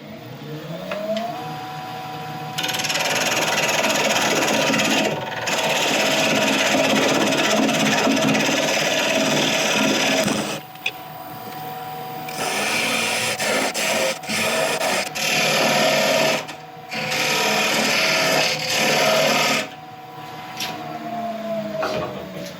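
A wood lathe cuts a very small tenon on the end of a mini bowl. A steady motor whir runs under scraping, rasping tool contact that comes in long stretches, broken by brief pauses.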